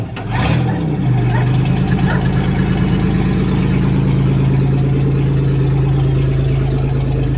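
A Pontiac 3.8 engine with an unleashed, open exhaust starts up and settles into a steady, loud, throbbing idle on a farm, close by and continuous, with faint voices beneath.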